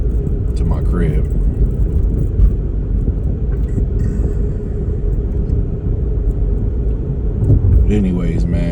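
Car driving a back route through Hawaii traffic, a steady loud low engine and road rumble from inside the cabin, with someone talking over it throughout.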